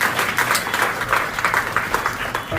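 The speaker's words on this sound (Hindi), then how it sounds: "एक ताली के साथ आज के दिवस का स्वागत करेंगे" Children clapping together to welcome a Safe Saturday disaster-safety session at school, a sustained burst of group claps with uneven pulses that carries on steadily throughout.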